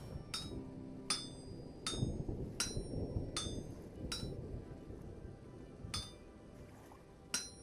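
Rhythmic metallic hammer strikes ring out on an anvil while smithing in Vintage Story, roughly eight sharp clinks spaced about a second apart over a low, busy rumble of game ambience.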